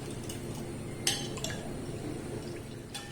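A spoon stirs butter into warm milk in a pot, clinking faintly against the sides with soft liquid swishing and a few sharper taps, steady and close with no talking.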